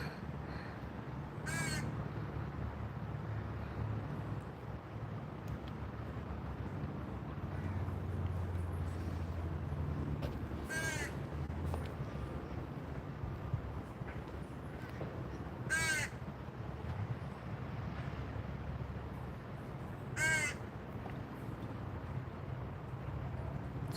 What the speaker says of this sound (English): So these are crows.